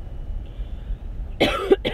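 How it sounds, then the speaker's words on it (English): A quiet hum gives way to two short, sharp coughs close by, one right after the other. "I'm coughing."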